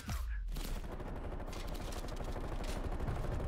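Dense, continuous gunfire from Call of Duty: Black Ops Cold War, an MP5 submachine gun match, rattling loud and close through the whole stretch as rapid overlapping shots with no pauses.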